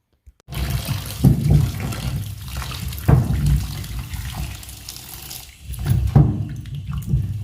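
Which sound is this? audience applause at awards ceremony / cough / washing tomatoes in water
washing tomatoes in water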